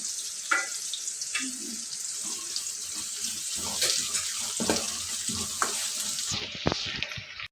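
Onion and curry leaves fry in hot oil for a bitter gourd masala curry, giving a steady, close hiss and sizzle with occasional spatters and clinks throughout.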